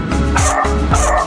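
A dog barks in close, repeated yaps in a quick, bouncy rhythm at an auto electrical shop, loud and up front with no talking over it.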